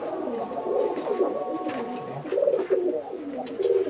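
Pigeons coo softly in a dirty pigeon loft, with repeated low throaty calls from several birds overlapping in a steady murmur.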